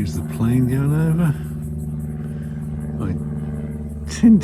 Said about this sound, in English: Excuse the plane going over.